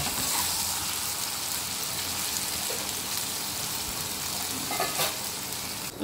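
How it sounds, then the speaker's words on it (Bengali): Jukti flowers frying with prawns in a pan and being turned slowly, a dense continuous sizzle with occasional soft scrapes of the spatula, close by and with no voices. "দেখুন এইভাবে ভেজে নিয়েছি, আপনারা এইভাবে ভেজে নেবে।"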